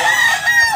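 A rooster crows loudly and close up, one sustained ringing crow among a flock of chickens of mixed breeds and colours, white, red, orange and brown, with no talking over it.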